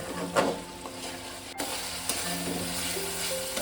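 Chana masala base of onion, ginger, garlic and tomato sautéing in a pan, a steady close sizzle with soft scraping stirs and occasional clinks, no voices.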